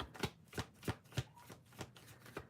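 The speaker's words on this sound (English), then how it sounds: "Let me just shuffle the cards a little bit more." Tarot cards are shuffled up close in a steady rhythm of about eight soft, papery riffles, evenly spaced and fairly quiet, with no talking over them.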